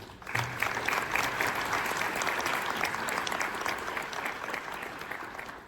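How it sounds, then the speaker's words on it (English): An audience at a community impact summit claps steadily for several seconds, a dense, even wash of applause from a large room with no break. "Please give them all a round of applause."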